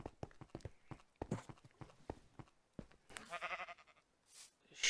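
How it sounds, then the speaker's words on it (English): Sheep bleat in a role-play game scene, a quick series of short tonal calls mixed with scuffling hoof-like clip-clops, moderately near and fairly quiet, with no talk. "Sheep, yes."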